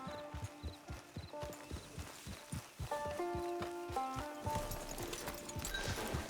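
Horse hooves clip-clopping at a steady walking pace in Red Dead Redemption 2, a regular rhythm of soft thuds over faint game music and ambience.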